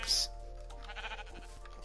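Sheep bleating in a video game, a tremulous bleat up close over a faint background hum.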